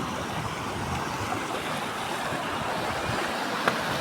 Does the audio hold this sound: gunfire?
no